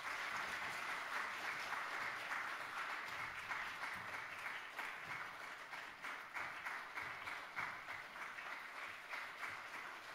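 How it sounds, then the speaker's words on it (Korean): Steady audience applause in a church service as scholarship students are honored, continuous even clapping that stays moderately distant throughout, with no one speaking. "박수로 축하해 주시면 감사하겠습니다."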